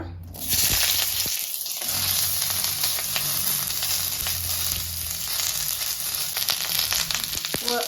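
Onions hitting a hot steel pan for a South Indian chicken curry: a short quiet moment, then a sudden burst of sizzling that settles into a steady close frying hiss with occasional stirring clicks, no talk.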